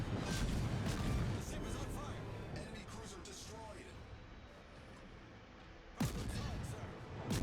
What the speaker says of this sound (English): We can just see all of these shells raining down in this corner.